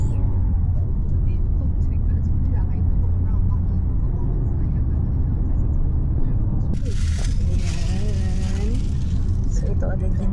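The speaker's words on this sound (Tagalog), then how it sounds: "Traffic." Road traffic in a residential neighborhood near a Chinese temple and shops hums steadily as a constant low rumble, with a brief brighter burst of passing vehicle noise toward the end.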